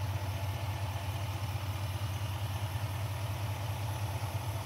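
A 2021 GMC Sierra 2500HD Denali Ultimate's 6.6-liter Duramax diesel engine idles steadily up close, a low, even rumble with a faint clatter that holds level throughout and carries no talk.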